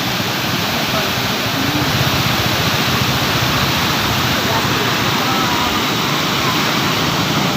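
Released floodwater roars past Subhash Bridge on the Ahmedabad riverfront, a loud, steady broadband rush that never lets up and fills the whole scene.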